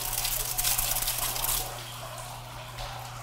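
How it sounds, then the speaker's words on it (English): Water gushing and splashing steadily as the inside of a tank is rinsed out during a Hoot Systems service, loud and continuous before easing to a softer trickle. "we're going to rinse out the inside."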